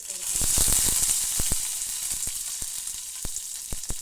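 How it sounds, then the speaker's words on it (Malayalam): Loud hiss of mustard seeds and curry leaves sizzling in hot coconut oil, with sharp popping crackles scattered throughout, fading slightly toward the end. "കടുകും കറിവേപ്പിലയും വെളിച്ചെണ്ണ വെച്ചിട്ട് നമുക്കിത് വറവിട്ട് കൊടുക്കാം"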